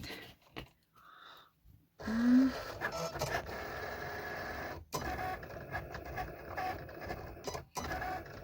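A Cricut cutting machine works through an iron-on vinyl logo, giving a quiet mechanical whir and scraping with brief pauses and small clicks as the blade carriage moves back and forth.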